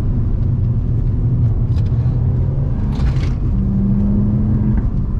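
An Abarth's engine drones steadily and loudly while driving, a continuous low rumble with a rising tone near the end as it pulls through a gear, with no talking.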